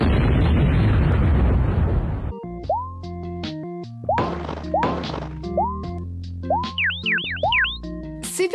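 Cartoonish bombs hitting a little town in a video game, with a roaring blast at the start followed by a string of bouncy thwacks, pops and whistling boing-like effects over game music.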